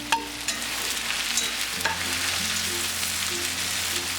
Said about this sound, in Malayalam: ഇതിൻ്റെ ഒപ്പം തന്നെ ഈ എടുത്തു വെച്ചിരിക്കുന്ന സവാള ചേർത്തത് നന്നായിട്ട് വഴറ്റി കൊടുക്കാം